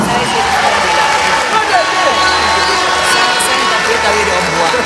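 A crowd at a youth manifesto rally cheers and shouts in a steady, dense roar, with scattered clapping and voices blending into a loud, continuous wash throughout.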